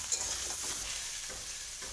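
Potato, eggplant and onion fry in a pan, giving a steady bright sizzling hiss with faint stirring scrapes for two seconds.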